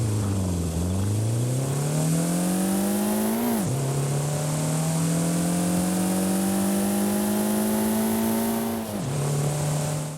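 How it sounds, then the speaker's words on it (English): A Citroen DS23 engine revs in Forza Horizon 5, loud and steady, its pitch climbing and then dropping sharply twice over about ten seconds, with no talking over it. "now let's go ahead and take a listen to that engine"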